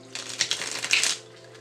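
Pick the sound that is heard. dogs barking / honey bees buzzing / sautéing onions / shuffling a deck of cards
shuffling a deck of cards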